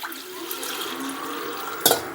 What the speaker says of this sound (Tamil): இதில் நம்ம தேவையான அளவு தண்ணி ஆட் பண்ணிக்கலாம்.